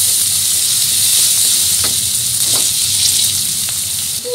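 Chopped onion frying in hot oil, a loud continuous bright sizzle and hiss close up, with a few faint stirring touches.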